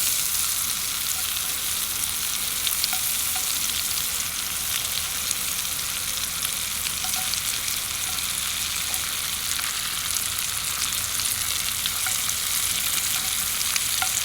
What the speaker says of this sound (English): this is starting to sizzle